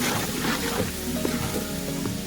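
Ginger sizzles and fries steadily in a hot pan for a fish pickle, a continuous close crackling hiss with faint stirring scrapes and no voices.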